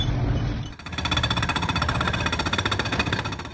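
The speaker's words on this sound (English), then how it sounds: "used an excavator equipped with a suspended hydraulic hammer to bring down a highway bridge in record time" Hydraulic hammer on an excavator pounding a highway bridge during demolition, a rapid loud mechanical rattle of blows that starts after a brief engine rumble and continues steadily, close and without talk.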